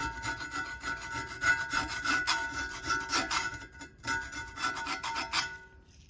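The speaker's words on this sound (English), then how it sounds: "I'm just gonna lightly scrape it and then wire wheel it" Rust is scraped by hand off a rusty Vulcan range part, a close, steady rasping rub in repeated back-and-forth strokes with brief pauses, fading near the end, with no speech.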